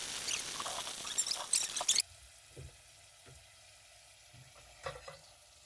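Salted chili peppers sizzle in hot olive oil with a brief crackling burst at first, followed by faint scattered pops and near silence.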